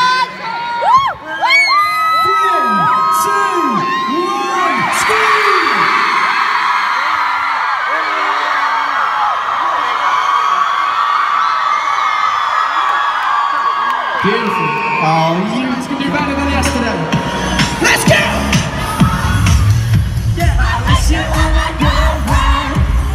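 A crowd of children at a summer convention event screams and cheers loudly and continuously, a dense roar of shouts and whoops with rising voices throughout, shifting into lower yelling toward the end.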